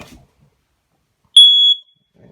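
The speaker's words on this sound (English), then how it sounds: "pretty much above our heads, we've got our smoke detector" A smoke detector in a Forest River Surveyor RV lets out a single loud, piercing electronic beep of about half a second. The beep sounds close and clear, with quiet moments before and after it.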